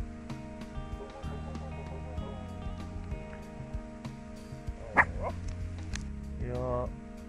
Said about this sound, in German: Das ist der Axel, der bellt mit.